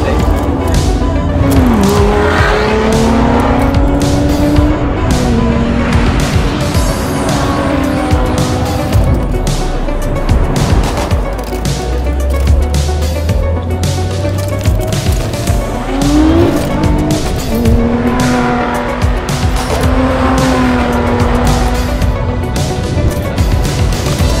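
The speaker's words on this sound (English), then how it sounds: "I'm just about to do a hill climb in the Emira, which is fantastic" Lotus Emira sports car on the hill climb at the Goodwood Festival of Speed, its engine loud and close, rising and falling through gear changes, with tire squeal and crowd noise around it.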